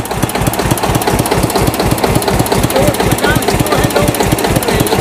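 A diesel engine running on fuel from an LPG gas cylinder thumps in a steady, fast, close and loud rhythm, with people talking faintly beneath it.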